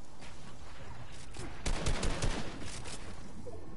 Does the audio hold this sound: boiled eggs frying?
no